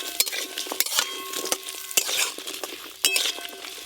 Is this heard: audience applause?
no